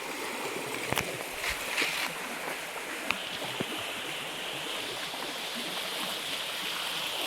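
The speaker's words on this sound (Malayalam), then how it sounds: "ശക്തിയിൽ വെള്ളം എടുക്കുന്ന തോട്" Strong water rushing steadily through a stream channel near an aqueduct bridge, a continuous close broadband roar with a few brief splashes and knocks, no talking.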